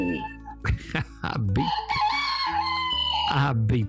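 A rooster crows in one long, drawn-out call at morning, loud and close, preceded by short clucking and voice-like sounds.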